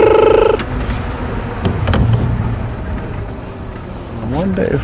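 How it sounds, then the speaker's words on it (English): Loud, continuous high-pitched cicada buzzing fills the air at a South African game reserve, a steady shrill drone with faint rustling and mechanical sounds underneath. "Listen to all the cicadas."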